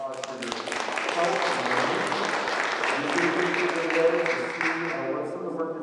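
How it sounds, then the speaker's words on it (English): A church congregation at a Sunday worship service breaks into warm applause, a soft, steady wash of many hands clapping that swells and holds, with voices and other sound underneath. "I want to give you a round of applause for your"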